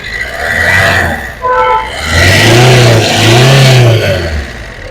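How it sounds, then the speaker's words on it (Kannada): A 2011 Maruti SX4 VDi diesel engine runs loudly close by, its pitch rising and falling as it revs, with a short tonal beep partway through. "ನೋಡ್ತಾ ಇದ್ದೀರಾ ಸೌಂಡು, ಇಂಜಿನ್ದು ತುಂಬ ಸ್ಮೂತ್ ಆಗಿದೆ ಇಂಜಿನ್ನು"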